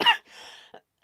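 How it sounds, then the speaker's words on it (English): A single close cough followed by a short throat-clearing rasp, with no speech. "I'm sorry, guys, if I keep coughing."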